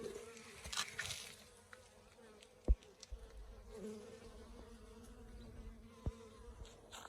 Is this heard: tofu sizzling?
no